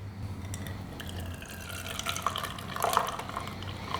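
Steeped Jamaica tea is poured through a strainer into a measuring cup, a faint, soft trickle and splash that builds toward the end under low room noise.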